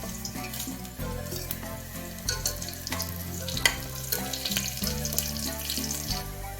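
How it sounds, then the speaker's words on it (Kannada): Garlic and other ingredients sizzle steadily in hot oil for a village-style huggi rice dish, a close, continuous crackling fry with occasional stirring scrapes. "ಸ್ವಲ್ಪ ಎಣ್ಣೆ ಬಿಸಿ ಆದ್ಮೇಲೆ ಈ ಇಂಗ್ರೀಡಿಯೆಂಟ್ಸ್ ನ ಹಾಕೊಳ್ಳೋಣ"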